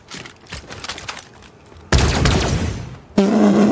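A laser rifle fires in Fortnite: bursts of rapid shots, then a dense, loud volley with a sharp electronic tone cutting in near the end, all close and without speech.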